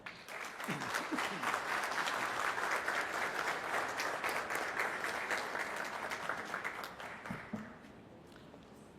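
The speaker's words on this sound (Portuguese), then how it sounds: "a quem eu peço uma salva de palmas" A crowd gives a round of applause for a judge at an honorary citizenship ceremony in Goiânia, steady dense clapping that swells quickly, holds for several seconds, then thins toward the end.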